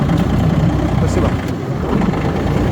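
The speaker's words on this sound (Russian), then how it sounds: "на холостых, без добавления оборотов, спокойненько, на 800 оборотов" A Yanmar AF22 Japanese mini tractor's engine idles steadily at low revs, a loud close continuous rumble, with someone talking over it.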